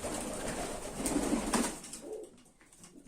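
Soft, low pigeon coos repeat several times close by, layered over a steady background hiss, then fade toward the end.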